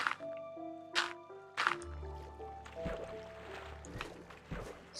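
Water flows over blocks in Minecraft, soft trickling and a few brief splashy bursts over quiet, sustained musical tones, faint and fairly sparse.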